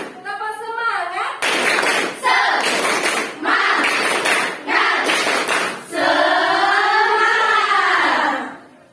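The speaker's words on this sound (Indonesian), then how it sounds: "Tepuk 1, tepuk 2, tepuk 3, tepuk semangat." A classroom of pupils claps hands together in rhythmic bursts of patterned beats, with voices chanting before and after the clapping.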